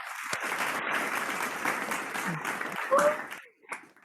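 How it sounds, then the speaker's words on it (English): Audience at a Rotary club induction ceremony applauding and cheering for the new club president, a dense steady wash of clapping with voices mixed in that thins and fades near the end. "let us put our loudest cheer for our new president"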